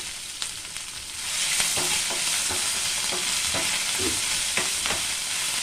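Ginger garlic paste fries in a bottle gourd kofta curry, a steady sizzle that grows fuller partway through, with a spoon scraping the pan in light, irregular strokes close by and no speech.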